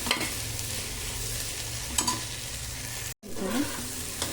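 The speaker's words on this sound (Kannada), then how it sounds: "ತೆಂಗಿನಕಾಯಿ, ಜೀರಿಗೆ, ಹಸಿಮೆಣಸಿನ್ಕಾಯಿ, ಅದು ಸೇರಿಸ್ಕೊಳ್ಳೋಣ. ಇದು ಸ್ವಲ್ಪ ಫ್ರೈ ಆಗಲಿ." Mango pieces frying in a pan with grated coconut, cumin and green chilies for mango rice, a loud, steady sizzle with occasional scrapes of stirring, close up and with no talking.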